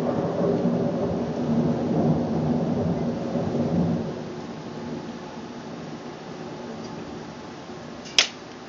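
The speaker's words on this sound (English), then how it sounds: "It's hailing." Hail pelting down during a sudden storm in Savannah, Georgia, a steady dense roar of broadband clatter that eases after a few seconds, with a sharp click near the end.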